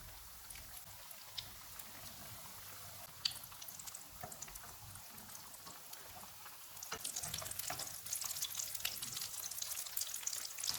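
Tandoori chicken cutlets fry in hot oil on a low-to-medium flame, giving a steady soft sizzle with crackling pops that grows denser and brighter toward the end.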